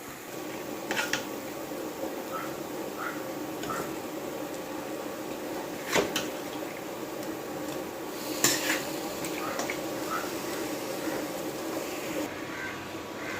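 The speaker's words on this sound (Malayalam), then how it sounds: "ഇനി നമുക്കിതിലേക്ക് ചിക്കൻ ഇട്ട് കൊടുക്കാം" Chicken pieces tipped into a pan of roasted-coconut masala for a Kerala-style country chicken curry, bringing a few clattering metal knocks and scrapes of a spoon against the pan over a steady low kitchen hiss, with no one talking.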